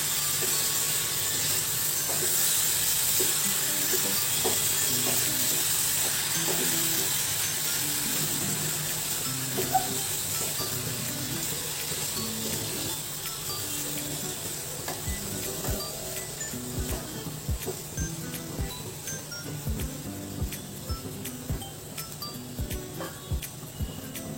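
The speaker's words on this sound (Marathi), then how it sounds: "व थोडेसे मनुके हे पुन्हा आपण छान परतून घेणार आहोत." Cashews and a few raisins being sautéed in a pan, a low hissing sizzle with scattered light clinks and scraping of a spoon stirring, moderately close and steady throughout.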